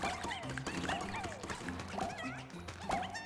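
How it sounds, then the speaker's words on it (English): Restless dog creature whimpering in the game Pikmin 4, a series of high sliding whines and yips repeating every second or so, up close amid game sounds. "Restless dog in trouble. No, not Oatchi. My restless dog."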